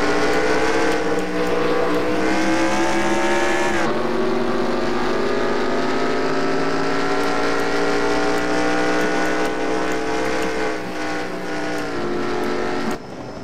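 Stock car engines roar in the NASCAR Racing 2003 video game on a 1970-style superspeedway, a loud sustained drone with pitch gliding up and down as cars run at speed, with no talking.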